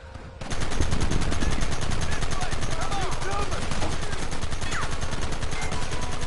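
Loud, dense gunfire from a shootout in the video game Red Dead Redemption: rapid overlapping shots and bursts that run continuously after a brief quieter start.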